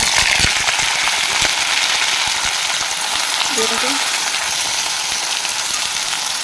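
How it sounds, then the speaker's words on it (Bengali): Potatoes and taro sizzle loudly in hot oil, a steady dense crackle with a few sharp spatters early on, close and continuous throughout. "আলু কচু আমি তেলের মধ্যে দিই"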